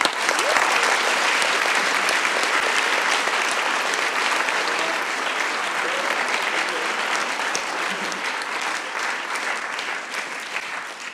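A large crowd at an award ceremony applauds steadily and enthusiastically, the clapping sustained at full strength for about eleven seconds.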